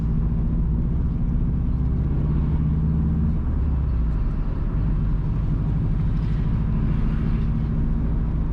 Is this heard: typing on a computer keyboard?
no